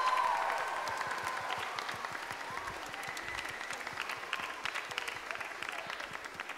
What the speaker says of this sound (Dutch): Ik wil een heel groot applaus voor Lisbeth.